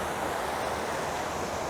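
A waterfall in Glencoe, in the Scottish mountains, roars as a steady broad wash of falling water with some wind, continuous and even throughout, with no talking.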